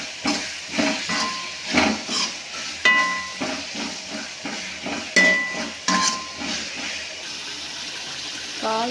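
Radish sambar ingredients are sautéed in a pan with rhythmic stirring: repeated scraping strokes and hissing bursts, with a few metallic clinks of utensil against pan, all close and fairly loud.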